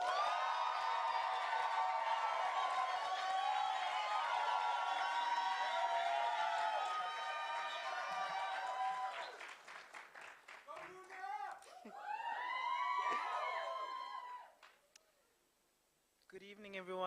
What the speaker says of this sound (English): Give a round of applause to Luna August.